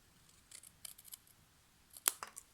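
Scissors snip in a few quick, crisp bursts, ending with a louder decisive cut through a thin strip of paper, in an otherwise quiet room.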